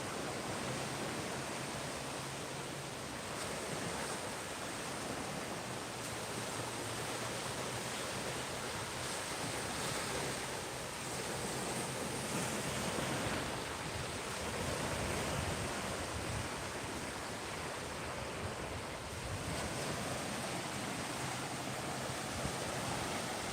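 Surf rolls onto a beach at Clearwater, Florida in a steady, hissing wash of breaking waves that rises and falls softly over time, a constant rush with no speech on top.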